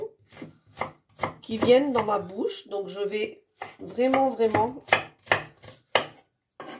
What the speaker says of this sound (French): je vais couper très finement parce que je ne veux pas avoir de morceaux